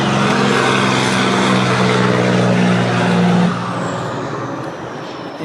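A truck drives past nearby, a loud, steady low engine roar that peaks and then fades away over about five seconds, recorded outdoors while a Subaru Forester's air conditioning is being serviced.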